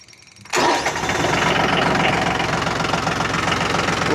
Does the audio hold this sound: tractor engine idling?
yes